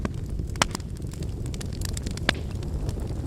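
Crackling campfire sound effect: a steady low rumble of flames with scattered sharp pops and snaps, fairly close and alone without talk.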